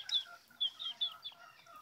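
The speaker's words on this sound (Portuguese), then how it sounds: "Ele é filho de galinha mestiça com galo índio gigante." A young cockerel, offspring of a mixed-breed hen and a giant Indian gamecock and recovering from two broken legs, gives several faint, short, high peeps and clucks in quiet surroundings.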